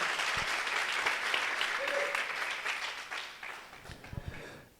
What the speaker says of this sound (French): Can I get a clap for Jesus